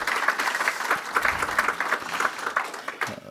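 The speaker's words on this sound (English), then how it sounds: "give them a big round of applause." At a Los Angeles County business event on green economic growth, an audience gives a full round of applause, a dense, continuous patter of many hands that stays fairly loud and even throughout.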